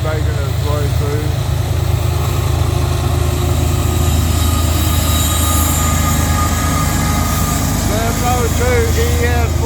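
A southbound manifest freight train with a distributed-power locomotive rolls past close by with a loud, continuous engine rumble, clattering cars and wavering wheel squeal, while a voice talks over it.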